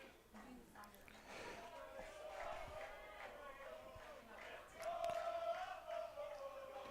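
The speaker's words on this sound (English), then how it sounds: "Blue Devil dugout is getting loud." Loud crowd of high school baseball players cheering and shouting from the Blue Devil dugout at a 2025 AHSAA game, a continuous rowdy roar of many voices that swells louder near the end.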